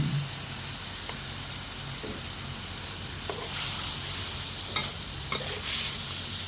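Shrimp is stir-fried sweet and sour in a pan with young cucumber, lime juice and sugar. A constant sizzle plays close by, broken by spatula scrapes and taps that grow a little busier toward the end, with no voices.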